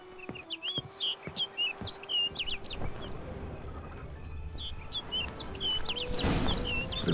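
A bird in The Witcher 3: Blood and Wine chirps in quick, bright repeated tweets, two clusters of calls over a soft outdoor ambience, with a louder rustling burst near the end.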